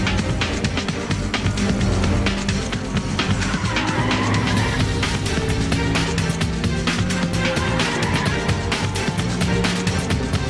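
Cars race at high revs in Need For Speed Undercover during a sprint race, with a continuous loud engine roar, skidding tires and dense, rapid clicking game effects throughout.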